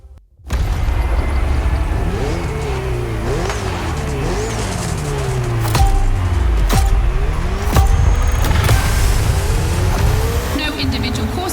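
Ferrari 488 circuit race car in The Crew Motorfest, engine roaring loud and steady with rising and falling revs, gear-shift swoops and brief tire noise, a voice talking over it throughout.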